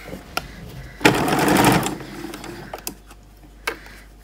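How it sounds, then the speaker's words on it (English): A sewing machine stitches a fabric bucket hat in a short close burst of rapid mechanical whirring, framed by scattered clicks and taps before and after. "and I shall start sewing"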